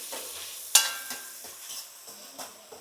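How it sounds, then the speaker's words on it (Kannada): Ginger-garlic paste, onion and green chilli fry in a pan, giving a faint sizzle with a sharp clink of a utensil early on and several scraping stirs, close and quiet. "ಶುಂಠಿ ಬೆಳ್ಳುಳ್ಳಿ ಪೇಸ್ಟ್ ಹಸಿ ವಾಸನೆ ಹೋಗೋವರೆಗೂ ನೀಟಾಗಿ ಫ್ರೈ ಮಾಡೋಣ"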